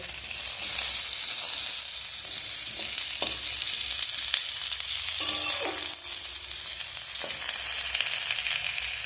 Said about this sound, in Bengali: ভেজে নেবো আলুগুলোকে, কারণ এটার মধ্যে খুব বেশি জল ব্যবহার করব না, তার জন্য আমি এইভাবে সময় নিয়ে আলুগুলোকে ভাজবো